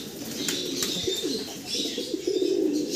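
Fancy pigeons in a breeding loft coo softly and continuously, with a few faint chirps and a brief flutter of wings, close by and with no talk over them.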